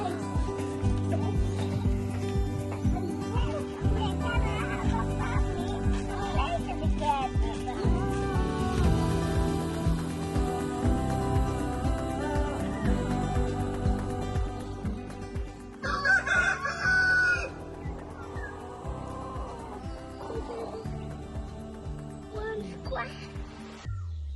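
Backyard chickens clucking, with a rooster crowing loudly and repeatedly nearby in the early morning, while people talk over the birds throughout.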